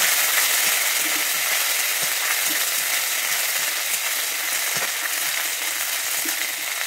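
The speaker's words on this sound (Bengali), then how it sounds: "আমি আদাটাকে একটু ভেজে নিচ্ছি।" Ground ginger paste fries in hot oil for a vegetarian doi potol curry, giving a steady close sizzle with a few soft taps of stirring and no speech.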